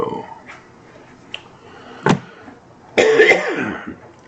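A couple of harsh, close allergy-related coughs break a mostly quiet room, the second one longer and rougher, with a few faint knocks before them.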